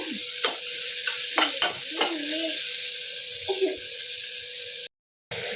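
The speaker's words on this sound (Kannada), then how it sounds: "ಟೊಮೆಟೊ ಚೆನ್ನಾಗಿ ಸ್ಮ್ಯಾಶ್ ಆಗಲಿ, ಅಲ್ಲಿವರೆಗೂ ಚೆನ್ನಾಗಿ" Tomatoes being sautéed and mashed in a pan give a constant close sizzle, punctuated by a few scraping, squelching spatula strokes before a brief cut to silence.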